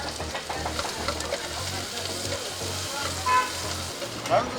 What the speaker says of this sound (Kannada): ಇಲ್ಲೋ ಎಣ್ಣೆ ಬಿಸಿ ಮಾಡ್ತಾ ಇದ್ದಾರೆ.